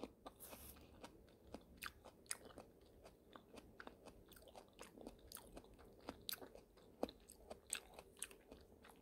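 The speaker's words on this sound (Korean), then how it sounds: "복숭아 먹는 중입니다." Someone chewing and biting into a fresh peach, soft wet crunches and mouth sounds repeating steadily, very close and quiet with no talking.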